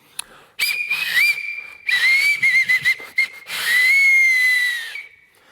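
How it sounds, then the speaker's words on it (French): Shrill, breathy whistle notes blown through a stone, in several bursts: short wavering toots, then one long sustained tone that fades out. "C'est peut-être ainsi qu'est né le premier sifflet"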